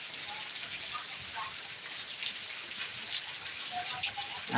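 Heavy rain falls steadily in a Gujarati village, a dense even hiss of water with scattered drips and splashes throughout, close and continuous with no speech over it.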